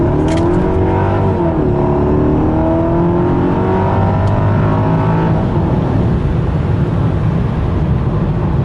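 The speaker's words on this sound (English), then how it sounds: "As you can see, the acceleration intoxicating." A Mercedes E55 AMG accelerates hard from inside the cabin, its loud, dense engine roar climbing through rising revs that break at a gear change and continue to build. Wind and road noise fill the background, and no one speaks.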